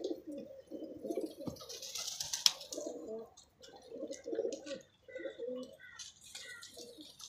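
Lakha pigeons coo softly in a loft, with several short, low, throaty bursts repeating at close range and brief quiet gaps between them.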